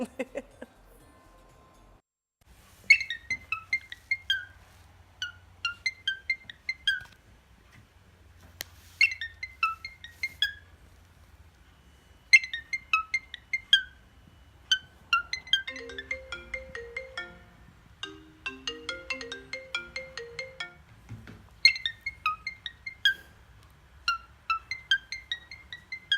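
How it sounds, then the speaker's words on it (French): A parakeet chirps out a repeated mobile phone ringtone melody in short bursts, clear and close, with brief pauses between phrases. "C'est une perruche voilà, qui imite parfaitement une sonnerie de téléphone portable."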